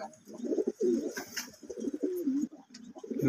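Pigeons in a cage where they have just laid eggs coo in low, throaty, repeated phrases, close by and fairly loud, filling the whole stretch with no talk.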